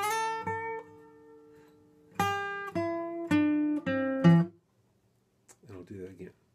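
An electric guitar plays a short phrase of plucked notes and chords that ends on an offbeat accent and rings briefly before stopping. A pause follows, then a quieter, muffled sound.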